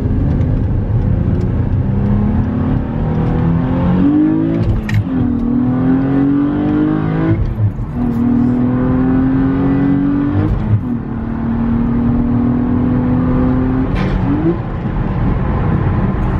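A 2003 Ford Mustang Cobra engine revs hard through repeated upshifts, each rising drone dropping sharply at the shift and climbing again, loud and close with no talking.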